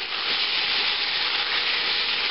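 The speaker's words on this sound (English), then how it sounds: "put in the rest of the meat and brown it up" Beef browning in a stew pot gives off a loud, steady, close sizzle, a dense unbroken hiss of frying with no voices over it.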